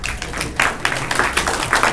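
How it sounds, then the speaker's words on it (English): Audience applause at an electric vehicle industry investment and cooperation forum, a dense, steady patter of many hands clapping at moderate volume for about two seconds with no voices. "We give him a warm applause."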